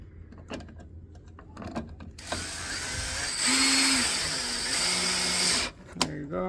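A cordless drill fitted with an extension drives headlight bolts on a 2004-2008 Ford F150, giving a whirring mechanical burst of a few seconds after scattered clicks and handling noises.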